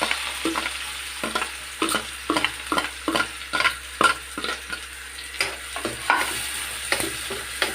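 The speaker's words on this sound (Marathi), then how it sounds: "कांदा व्यवस्थित लालसर तपकिरी कलरचा होईपर्यंत मस्तपैकी भाजून घ्यायचा।" Finely chopped onion fries in a pan with curry leaves while a spoon stirs it. A continuous sizzle runs underneath a rapid series of scraping taps and clacks against the pan, close up with no talking.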